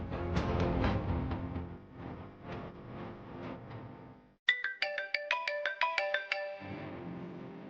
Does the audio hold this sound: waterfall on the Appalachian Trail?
no